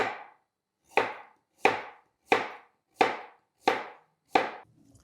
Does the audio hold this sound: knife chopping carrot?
yes